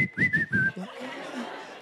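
A stand-up comedian whistles on stage in a few short melodic phrases, clear and up front, followed by a brief chuckle and murmuring room noise.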